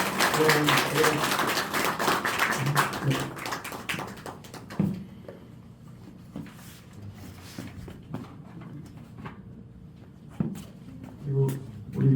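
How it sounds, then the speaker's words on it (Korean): A church congregation claps at an elder and deaconess ordination thanksgiving service, several seconds of steady applause that fades out, leaving quiet room sound and a few scattered sounds. "자, 우리 박수해 주시겠습니다."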